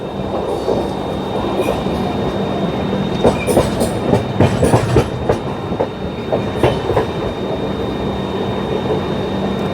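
Jharkhand Sampark Kranti passenger train rolling on the Delhi to Ranchi route, a loud steady rumble of carriages with rhythmic clickety-clack from the wheels over rail joints.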